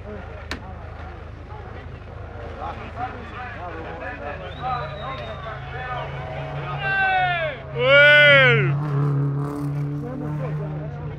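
A VW Golf Mk1 race car at a Buzet hill climb roars past with rising and falling engine pitch, loudest near the end as it passes close, over a murmuring crowd and talk.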